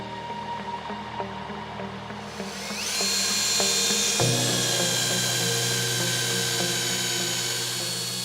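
A power drill bores into a Flender gear unit housing, starting after a quieter lead-in and then holding a loud, high steady whine close to the microphone.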